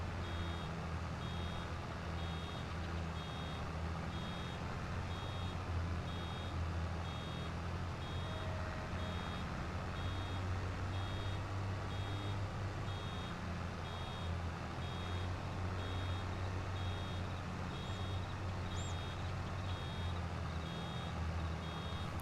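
Reversing beeps from a vehicle in Farming Simulator 22 repeat at an even pace throughout, thin and fairly quiet, over a constant low engine rumble with no talking.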